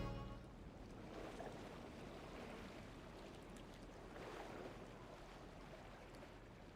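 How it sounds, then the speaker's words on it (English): Faint, distant ocean waves wash in a video game, a soft, steady surf hiss with gentle swells and no voices. "The distant sound of waves lingers in my dreams."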